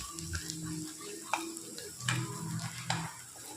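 Ground spice paste roasting in a pan for misal: a quiet, crackly sizzle with several sharp spoon scrapes and taps against the pan, close and without talking.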